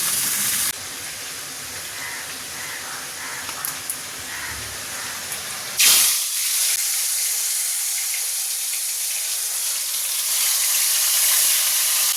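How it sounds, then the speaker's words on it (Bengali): Fish frying in a pan in a home kitchen, a steady bright sizzle and hiss that jumps louder partway through as the fish goes into hot oil, then holds as a continuous close frying sound with no talk. "এখানে মাছটা ভেজে নেবো।"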